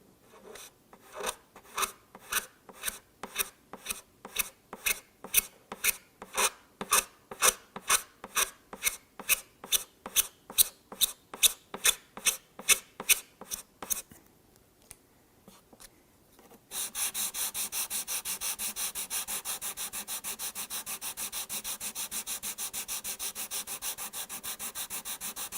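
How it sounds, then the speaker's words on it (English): Sandpaper works over a guitar finish to remove leftover super glue, first as a long series of regular back-and-forth rasping strokes, then after a short pause as a continuous faster scrubbing, close and fairly quiet. "Try to sand just the area, and you can see the shadow outline of the super glue that's remaining."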